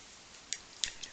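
Scissors trim excess paper from a handmade decoration, giving three or four short, crisp snips spaced irregularly over a quiet background, close and fairly faint with no talking.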